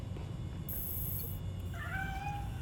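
A cat meows in the Gotham Knights video game, a short, clear mewing call near the end over a low, steady game ambience hum, with no voices.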